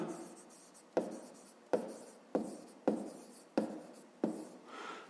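A pen scratching across paper while a school maths exercise is written out: about seven distinct, evenly spaced strokes, each starting sharply and trailing off, close and clear in a quiet room.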